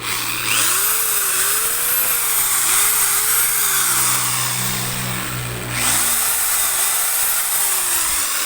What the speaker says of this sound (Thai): ผมจะเทสให้ดู นะครับ ด้วยสว่าน นะฮะเพราะว่า อินเวอร์เตอร์มันแค่ 500 วัตต์